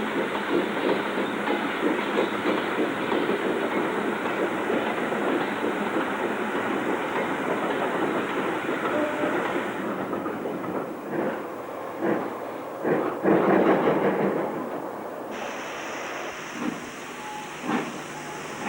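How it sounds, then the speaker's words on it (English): Steam locomotive 4922 Enville Hall departing with a Portsmouth-Cardiff passenger train as a southbound freight rattles past, a dense continuous rumble and hiss with clattering wagons, then a few sharper knocks and a thinner tail as the noise eases. "As a southbound freight rattles past, a Portsmouth-Cardiff working departs behind number 4922 Enville Hall"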